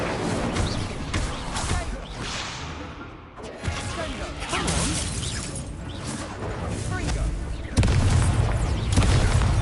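Fire spells are cast in the Hogwarts Legacy video game as a series of loud booming bursts and crackling, shattering blasts that come one after another in fast, chaotic combat, with a voice partly mixed in.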